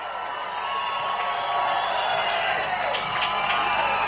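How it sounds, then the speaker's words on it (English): A crowd at a Scottish independence rally applauds and cheers, producing a broad, sustained wash of clapping that swells slightly louder and continues steadily. "Give yourselves a round of applause"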